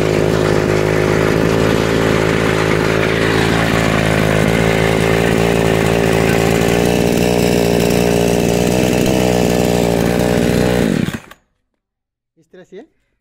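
Engine of a homemade reaper machine running after a pull-start, a loud steady buzzing drone that holds for about eleven seconds, then cuts off abruptly, leaving near silence with a couple of faint clicks.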